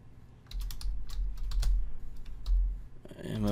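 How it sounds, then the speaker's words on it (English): Typing on a computer keyboard, a quick run of close, crisp key clicks in irregular bursts, ending as a voice starts to speak. "you'll have to type that in again"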